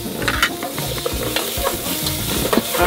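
Butter sizzles and fries in a pan outdoors by a lake, a constant crackling hiss with scraping stirs close by and no voices.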